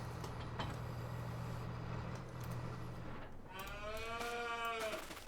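Cattle in the farming video game Farming Simulator 22 give a drawn-out moo near the end, low and steady against a constant droning ambient bed, with a soft earlier bleat-like call.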